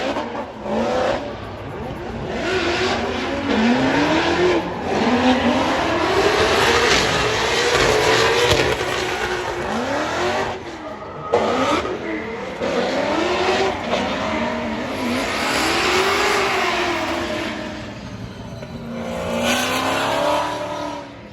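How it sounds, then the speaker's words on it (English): Drift cars practise at a Formula Drift round in St. Louis, with loud, continuous high-revving engines rising and falling and long tire squeals sweeping past the stands throughout. "finally get to see some drifting"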